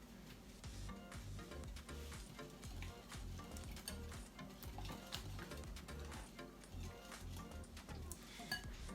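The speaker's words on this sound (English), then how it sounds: "I'm going to add that into the ingredients that we've added so far. And then I'm going to mix that up." Chopped spinach being stirred into a smoked salmon quiche filling, giving a steady, busy scraping and stirring texture close by that runs without pause for the whole stretch, with no talking.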